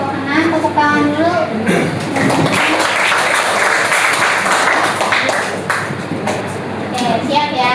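A high school class applauds group six in a classroom, steady clapping spread across the middle with speaking voices before and after.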